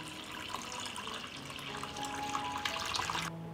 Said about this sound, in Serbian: Sipam vodu u šerpu do visine poklopca.